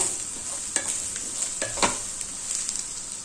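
Coriander and mint leaves sautéing in a pan over a flame, a quiet steady sizzle with a few scraping stirs of a spatula, close but soft.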